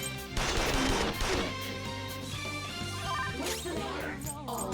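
Gunfire in the Persona 5 Royal video game, a burst of sharp cracks near the start and another volley later, dense and loud over a layer of game music.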